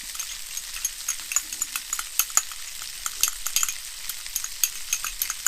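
Garlic cloves fry and are stirred in a pan for spaghetti bolognese, a soft airy sizzle with light scraping clicks and taps at an irregular pace, close and with no one talking.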